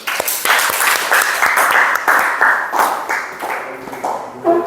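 Students in a classroom clap together: loud, close handclaps in an uneven rhythm, with individual sharp claps audible, swelling and fading across several seconds before a brief voice at the end.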